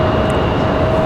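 A United airliner at Raleigh-Durham International Airport roars steadily and loudly, a continuous jet rumble with a faint whine above it, heard alone.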